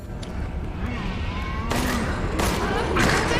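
Gunfire in the video game Resident Evil Village, Shadows of Rose DLC: a steady run of rapid shots and booms under a dense game soundscape, loud and continuous without spoken words.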